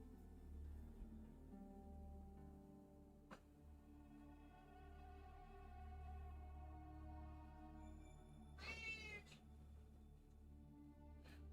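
A pet cat meowing for attention, a faint drawn-out cry or two at close range in a quiet indoor room with a low steady hum beneath it.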